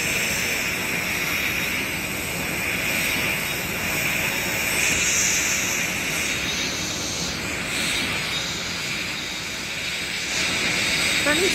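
Boeing 747 jet engines in Roblox, a British Airways airliner in flight, give a steady, loud broadband roar that holds for the whole stretch with slight swells, and a voice faintly mixes in beneath.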